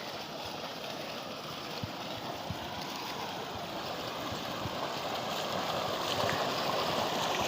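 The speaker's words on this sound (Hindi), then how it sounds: "आपकी कराची में पानी नहीं आता, लेकिन यहाँ पे देखें माशाल्लाह ज़मीनी पानी, ये ज़मीन से निकल के आ रहा है, मीठा पानी ट्यूबवेल का।" Groundwater from a village tubewell gushes out in a steady, broadband rushing stream that holds constant throughout and swells a little toward the end, close and fairly loud with no voices.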